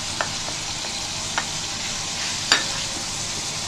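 Green onion stirred into green masala in a hot pan for a green chicken dish, a continuous sizzle with a few sharp clicks of the spoon against the pan, close and even.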